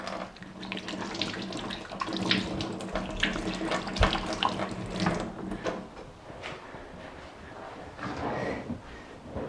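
A tap runs steadily into a sink as grease-covered hands are washed after cooking lamb kebab, with close splashing and rubbing that varies throughout, and no talk.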